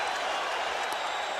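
A baseball stadium crowd at World Series Game 7 between the Boston Red Sox and New York Mets cheers and applauds after back-to-back strikeouts, a dense continuous wash of clapping and roaring.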